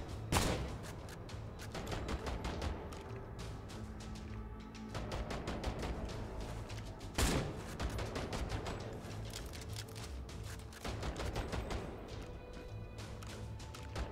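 Rapid automatic gunfire in the shooter INSOMNIA: The Ark, dense bursts of shots with crashing impacts running nearly nonstop, two sharp louder blasts standing out, and the weapon sputtering as if jamming.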